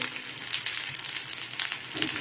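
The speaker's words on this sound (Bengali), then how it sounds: "এটা একটু ভেজে নেব" Onions and ginger paste fry in a pan with a steady, close crackling sizzle that holds throughout, without any voices.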